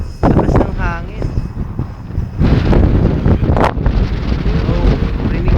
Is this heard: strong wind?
yes